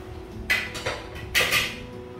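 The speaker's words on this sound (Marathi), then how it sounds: "आता मी झाकण काढते याचं" A pressure cooker lid is lifted off after a dal cooks through two whistles, with a few clanking metallic knocks and scrapes in a quiet home kitchen and no talking.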